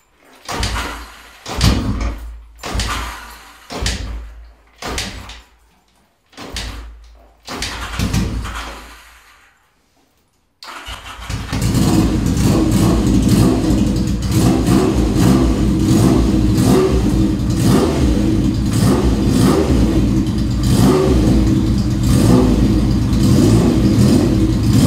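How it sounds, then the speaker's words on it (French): A still-warm engine in a garage cranks through several short start attempts with the choke on, goes quiet, then catches and runs with a loud, sustained revving roar to the end. "on va mettre le contact et peut-être un peu de starter"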